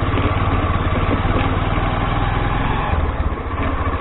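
A 125cc motorcycle engine running steadily while riding off-road, a close, loud, continuous buzzing drone with a slight dip in pitch near the end.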